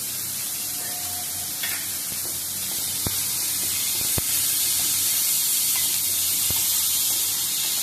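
Onions sizzling in a pan with chili powder and salt for a drumstick leaf vegetable dish, a steady close hiss with a few faint clicks and knocks from stirring.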